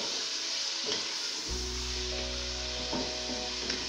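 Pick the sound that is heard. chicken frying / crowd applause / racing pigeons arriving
chicken frying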